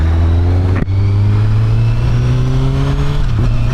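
Close, loud engine note from a 2017 Honda CBR1000 SP2 fitted with a full Akrapovic exhaust as it pulls onto the road. A brief blip is followed by a steady, rising drone.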